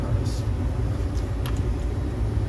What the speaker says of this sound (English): It's a haul truck.